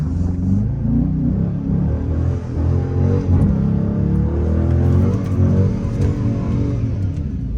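Dodge muscle car engine, Scat Pack or Hellcat type, revving hard and close while sliding on warm tires, a loud throaty rumble rising and falling in repeated surges over several seconds.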